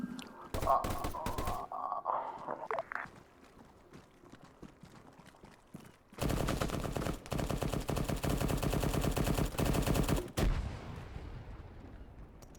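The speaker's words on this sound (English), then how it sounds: "that's a 50 cal firing through a little keyhole right there, but missed most of those shots" In Arma 3, a .50 cal machine gun rattles off long, loud, rapid bursts after scattered earlier shots, the sustained fire dominating the middle stretch before cutting off abruptly.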